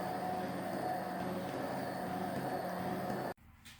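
A blender purees tomato sauce in a glass bowl, droning loudly and steadily for a little over three seconds before cutting off abruptly.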